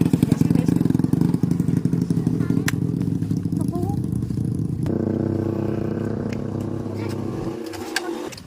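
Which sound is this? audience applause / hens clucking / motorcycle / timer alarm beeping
motorcycle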